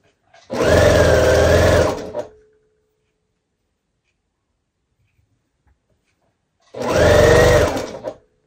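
A sewing machine stitching quilt star blocks, two close, loud bursts of rapid motor-driven stitching, each lasting about a second and a half, separated by several seconds of near silence.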